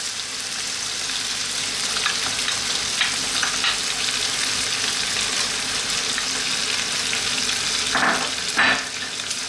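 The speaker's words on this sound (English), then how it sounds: "We're now going to grab our cream. Like I say, any cream works, thick or thin. In it goes." Cream goes into a simmering chicken and bacon pasta sauce in a pan, giving a steady close sizzle and bubbling with a few brief stirring scrapes.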